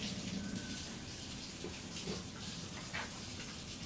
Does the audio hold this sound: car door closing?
no